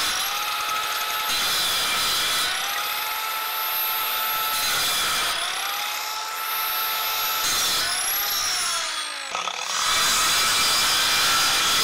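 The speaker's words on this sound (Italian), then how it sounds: "vedete come taglia, abbiamo trasformato una sega circolare" A circular saw converted into a bench saw cuts firewood, its blade whining loudly and steadily. The pitch dips and recovers through several cuts, close up and with no talk.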